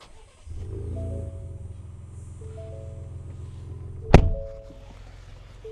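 A 2025 Ford Ranger Raptor engine idles with a low steady rumble and faint whine, then a sharp crack-like burst as it starts and settles back to a smooth idle, heard close and alone.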